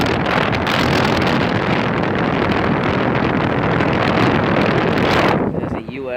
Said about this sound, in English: And there's the luxaire from 2006. Running in heat mode.